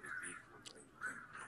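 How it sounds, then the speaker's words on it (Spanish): Crows cawing in a Naruto Shippuden anime scene, two harsh calls about a second apart, fairly loud over a busy background. "Cuervos."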